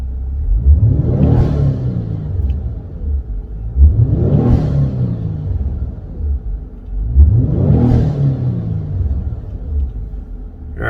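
A Genesis G70 / Kia Stinger engine in Sport Plus mode is revved three times, each rev a deep rumbling swell that rises and falls with steady idle rumble between them, close and loud.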